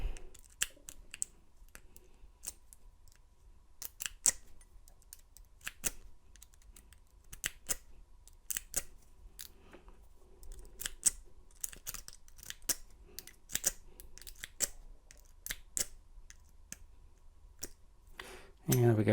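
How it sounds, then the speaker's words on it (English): A lock is raked open with a two-hump carbon fiber rake pick, giving quick irregular metallic clicks and scraping ticks in scattered bursts, close and fairly faint, with occasional soft talk. "So got that guy raked open here."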